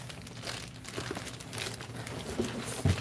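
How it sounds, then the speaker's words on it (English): Styrofoam bubble packing material being pulled from a box, giving continuous close crinkling and rustling with a few sharper crunches near the end, no voices. "It has like a lot of styrofoam bubbles"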